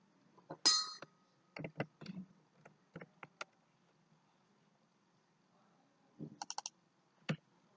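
Someone types an XPath on a computer keyboard, giving scattered, close, fairly quiet key clicks in short irregular bursts, with a long pause in the middle before a final few taps.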